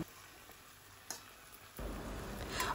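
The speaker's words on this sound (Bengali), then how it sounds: "এরপর গ্যাসের ফ্লেমটা হাই করে শুধু নাড়তে থাকবো যতক্ষণ পর্যন্ত জলটা না টেনে নিচ্ছে" Pui shak chorchori with hilsa fish head is stirred over a high flame, a soft sizzle with light scraping that swells louder partway through, close and without talk.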